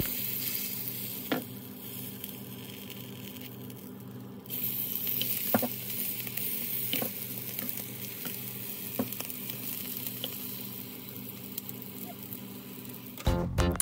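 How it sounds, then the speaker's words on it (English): A low carb pocket burrito, folded tortilla cone, fries in a pan with a steady crackling sizzle, close up, with occasional utensil clicks and a brief louder burst near the end. "Then you're gonna fry it up."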